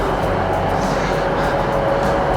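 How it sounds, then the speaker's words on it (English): A CrossCountry five-car Voyager diesel train pulls into a recently refurbished UK station, giving a steady, loud, close engine rumble with a faint sustained whine throughout the short stretch and no break in the noise. "Train is here."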